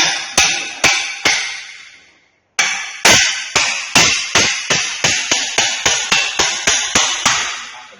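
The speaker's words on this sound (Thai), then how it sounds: "เราก็จะ ใช้ค้อนนะครับ จะค้อนนะครับตอกนะตอกลงไป" A hammer drives a wedge under a sagging door with sharp, close metallic-wooden knocks: three spaced blows, a short pause, then a quicker run of about a dozen strikes with a clear rhythm.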